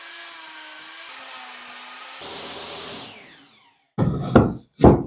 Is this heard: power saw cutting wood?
yes